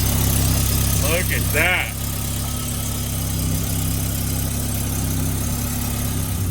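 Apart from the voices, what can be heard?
Rusty Rabbit car engine started and idling after water pump repair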